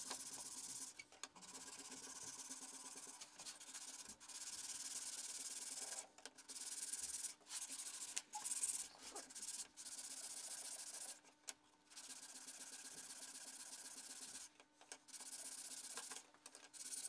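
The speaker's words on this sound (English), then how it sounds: "This is just going to sand it in." A sanding block is worked by hand across the flat faces of a wooden Japanese lantern, giving a steady, close rasping scrub in long strokes. The strokes pause briefly between passes.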